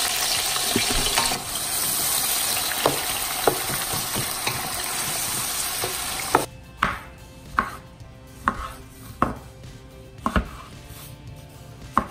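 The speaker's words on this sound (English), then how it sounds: "You need to hear that sizzle as soon as the onion goes in." Onions sizzle in hot oil with a dense, steady hiss that cuts off abruptly, followed by a series of sharp, evenly spaced knocks.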